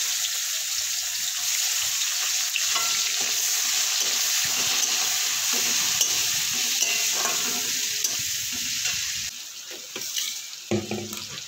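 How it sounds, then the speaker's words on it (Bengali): Chopped onion and potato frying in hot oil give a loud, continuous sizzle close to the pan. Near the end the hiss drops and turns uneven as the contents are stirred. "গরম তেলের মধ্যে পেঁয়াজ কুচি দিয়ে তারপর আলুটাকেও আমি দিয়ে দেবো।"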